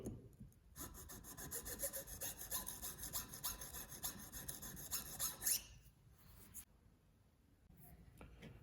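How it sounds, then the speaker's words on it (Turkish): A wood chisel is rubbed back and forth on a sharpening stone, producing rhythmic, scraping strokes for about five seconds before stopping, then a quieter scrape after a pause; no one speaks. "Kalın tarafın bileme işlemi bitti."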